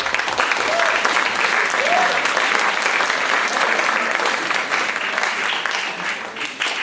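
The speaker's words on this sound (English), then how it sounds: "you can definitely give a round of applause" Sustained audience applause at a school event, a dense steady clapping wash filling the whole stretch at even loudness, with faint voices murmuring underneath.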